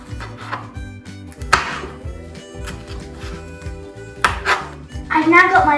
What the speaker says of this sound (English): Now chop your peppers.